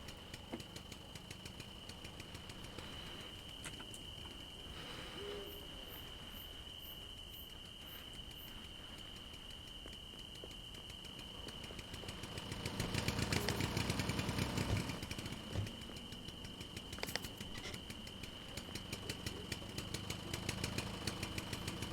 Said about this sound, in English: as long as the engine's running, it's fine